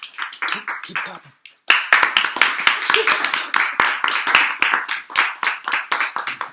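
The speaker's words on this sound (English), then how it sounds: "Keep clapping." An audience claps after a speech about sleep, with dense, lively clapping that breaks off briefly and then resumes louder and steady. Voices talk and call out beneath the applause.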